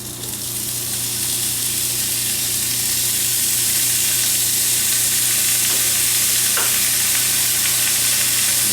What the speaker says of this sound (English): You hear that pan really start to bubble there a little bit.